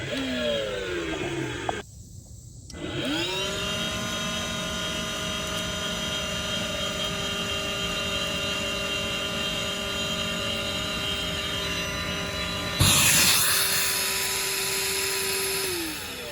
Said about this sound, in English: So we're going to give it a quick vacuum and see what happens.